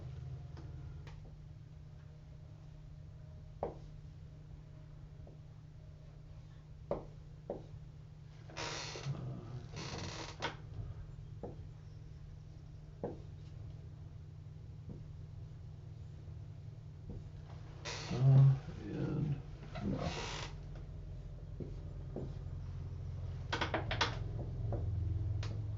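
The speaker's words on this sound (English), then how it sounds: "Okay, I'm going to write them out." Hindi Devanagari letters written out by hand, heard as scattered soft pen scratches in several short bursts with sparse ticks between, over a low steady hum.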